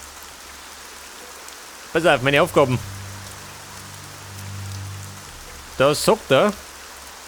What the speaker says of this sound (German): Da regnet schon wieder, wie meistens.